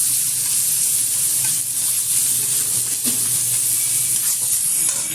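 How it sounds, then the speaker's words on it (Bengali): Ginger and garlic paste frying in hot oil for mixed ghugni, a steady loud sizzle and hiss running throughout with faint stirring scrapes, no talking. "এবার ভালোভাবে কষিয়ে নেব একটু"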